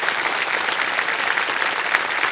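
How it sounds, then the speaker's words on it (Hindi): Studio audience on the Indian TV quiz show Kaun Banega Crorepati claps in a steady, dense burst of applause that holds at an even, loud level throughout, with no voices. "तालियां बज जाए।"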